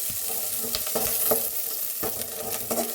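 Dried red chilies, green chilies and garlic fry in a pan with a continuous crackling sizzle and bursts of popping, alone and close, with no talk.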